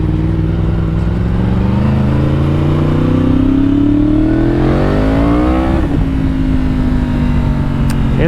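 Yamaha R1 sport motorcycle engine revving up hard under acceleration while riding, its rising loud drone climbing steadily, easing briefly and pulling again, continuous and close with no talk.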